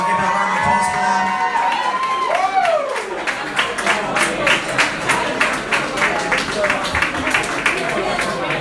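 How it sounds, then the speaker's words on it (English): A student crowd at a 2019 leadership election results night applauds the new student executive team: loud, dense clapping and cheering that builds and carries on, with a brief whistle or shout early on. "I'll give it a round of applause for them"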